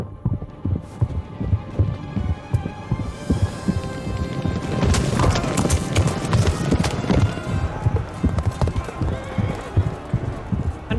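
Horse hooves clip-clop steadily in the video game Kingdom Come: Deliverance, a dense rhythmic trot under a low hum, with a busier, louder stretch midway.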